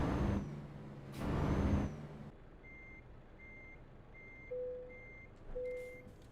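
Reversing beeps from a truck in Euro Truck Simulator 2 sound in a steady, evenly spaced series, following two loud bursts of air-brake hiss at the start.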